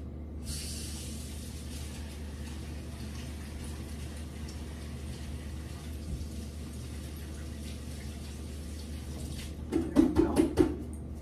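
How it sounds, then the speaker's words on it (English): Tap water runs steadily in a home kitchen as hands are washed while harira soup is being made, a continuous close rush lasting about nine seconds before it shuts off, followed by a few brief sounds. "Let me wash my hands."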